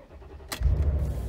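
A Mercedes G500 W463 with an M113 V8 cranks with the key after a sharp click, then catches and settles into a loud, steady low idle rumble close by.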